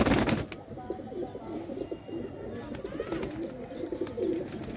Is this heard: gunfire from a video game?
no